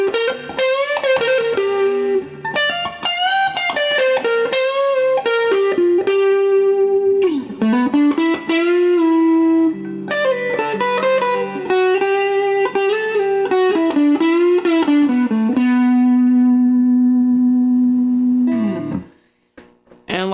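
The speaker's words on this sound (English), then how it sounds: "And you get some good distortion sounds out of that. Put on a little bit of reverb here" Electric guitar plays lead lines through a solid-state amp with distortion and reverb, loud and sustained notes bending and ringing out, ending in a held note that fades.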